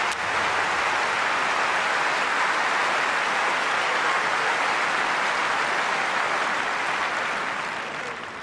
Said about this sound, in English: All you have to do is listen to the crowd.